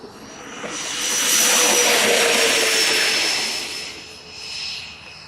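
A jet airplane takes off, played back from a recording, as one loud, rushing engine roar with a high whine. It swells to a peak, holds, then fades with a small surge near the end.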